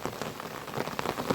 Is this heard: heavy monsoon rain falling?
yes